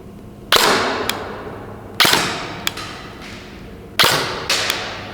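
An airsoft gun fires 0.28 gram BBs at a target, giving three loud, close pairs of sharp cracks about two seconds apart, each first shot followed by a fainter second snap and a brief ringing tail.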